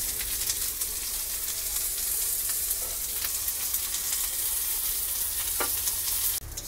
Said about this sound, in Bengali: এই উপোসের চাল দিয়েছে মা, দিয়ে কষছে।